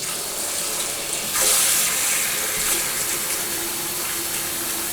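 An Amazon faucet runs water into a cultured marble vanity sink with no overflow, a steady strong close-up stream with a brief surge in the middle.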